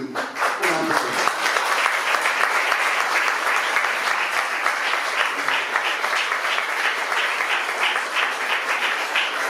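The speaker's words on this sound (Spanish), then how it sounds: "Y un aplauso." A crowd breaks into sustained applause, dense rapid clapping that holds steady for several seconds after a brief voice at the start.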